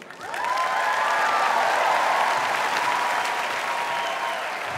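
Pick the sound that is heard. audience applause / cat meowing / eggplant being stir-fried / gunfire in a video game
audience applause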